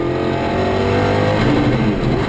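A GT race car streams past at speed on the Nürburgring during a Supercar Challenge round, its engine a loud, close, sustained snarl that rises and shifts in pitch as it goes by, with no talk over it.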